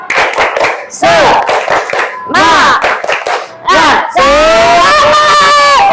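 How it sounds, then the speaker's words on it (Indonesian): A classroom of children performs a rhythmic clapping cheer, bursts of claps alternating with loud shouted chants and a teacher's voice, repeated in several rounds at close range. "Sekali lagi tepuk semangat."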